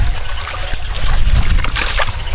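Water trickles and gurgles loudly and close in a farm canal, a continuous babbling flow with small splashes and a low rumbling undertone.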